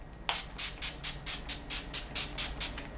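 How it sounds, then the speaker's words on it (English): NYX Dewy Finish setting spray misted onto a face, about a dozen quick, evenly spaced hissing pumps in steady rhythm, close and clear with no talking. "I'm gonna be using this NYX Dewy Finish setting spray"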